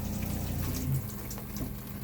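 Water streams from a handheld shower head in a camper, a steady, fairly faint hiss of running water that holds evenly throughout with no voices.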